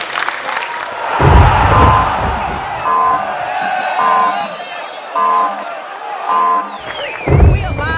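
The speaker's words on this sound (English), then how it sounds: "Give yourself a round of applause." Players at a basketball camp whoop and cheer loudly as a group at the close of play, with scattered clapping under the shouts and some talk mixed in.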